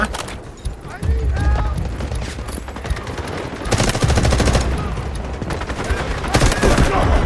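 Rapid bursts of gunfire from a shooting match in the video game Delta Force, dense overlapping shots loud and close throughout, with a voice talking over the action.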